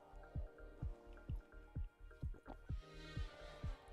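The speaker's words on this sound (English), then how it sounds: "Let's just get a bit of water here" Water is poured or dribbled in short bursts, producing a rhythmic series of close, quiet drips and splashes with small gurgles, heard alone without talk.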